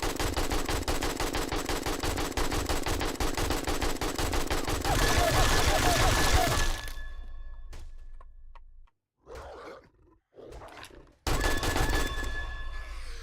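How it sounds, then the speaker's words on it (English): Rapid automatic gunfire in the survival game 7 Days to Die, a long continuous burst of shots at a direwolf that stops abruptly, followed by a few short broken bursts and then another sustained volley, loud and close. "let's go up here and shoot this direwolf"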